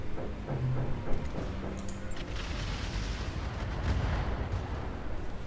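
Mech weapons firing at a Kali mech in Roguetech, a continuous dense barrage of booms and rumbling impacts that stays loud throughout, with no talk.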